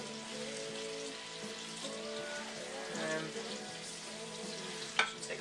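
Pork burgers sizzling in hot oil in a pan, a steady close crackle and hiss with scraping as they are lifted and flipped, ending in a brief clatter.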